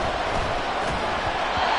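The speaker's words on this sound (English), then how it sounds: "the crowd getting into it as we come up on a big 3rd down" A football stadium crowd builds into a loud, sustained roar ahead of a big third down, a dense wall of cheering voices with no single talker standing out.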